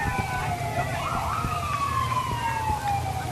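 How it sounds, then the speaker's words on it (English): A stunt truck rolls along a town parade route, sounding a rising and falling siren-like wail over a low engine rumble and crowd noise, loud and close. "Now, that's what the noise is. It's a stunt truck coming up"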